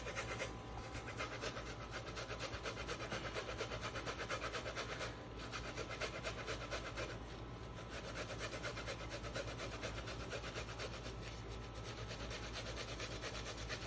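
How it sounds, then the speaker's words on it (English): Fresh ginger rasps against a grater in steady, rapid back-and-forth scrapes, faint and close with a low background hum throughout. "So I'm just gonna grate the ginger just like this."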